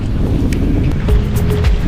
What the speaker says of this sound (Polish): wieje wiatr, coraz mocniejszy